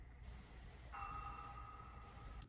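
A processed metallic ring, lowered in pitch and wrapped in reverb, swells in and hangs as a shimmering tone before a short tap at the end.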